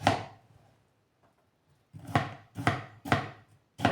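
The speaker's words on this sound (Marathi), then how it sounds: "आता बारीक चिरायची काकडी." Cucumber is finely chopped on a board with an iḷī blade, giving crisp close chopping knocks, one at the start, then a pause and four evenly spaced cuts near the end, with no talk.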